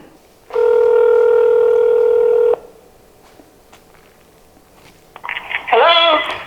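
Touch-tone telephone dialing before a call, with a long steady tone near the start, quiet room noise, then a short burst of warbling ringback-like tones near the end, all fairly close and loud without speech.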